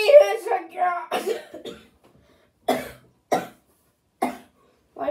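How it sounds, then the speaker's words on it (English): Several sharp, separate coughs come in a short burst after animated cartoon voices talk, each cough loud and close with pauses of silence between them. "Why are you coughing?"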